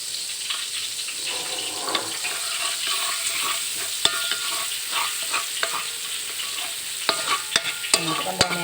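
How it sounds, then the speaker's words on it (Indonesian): Garlic sautés in butter in a pan. A steady, close sizzle runs throughout, with scraping stir strokes and sharp utensil clicks against the pan near the end, and no talking. "kita panasin mentega, kita tumis. Nah, kita tumis bawang putih"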